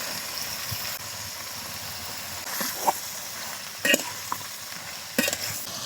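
Ridge gourd goes into a wok of spiced prawns frying with onion, producing a steady close sizzle broken by several sharp stirring clanks and scrapes, with no speech.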